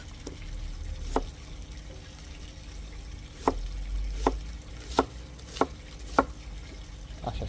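A knife chopping onion on a cutting board while cooking a vegetable and chicken ghiveci stew: a series of sharp, separate knocks, about seven spread unevenly through the clip, close and clear with no talk over them.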